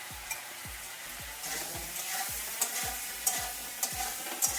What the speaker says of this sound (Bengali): তেল আছে, ওই তেলেই আমি আলুগুলো ভেজে নেব।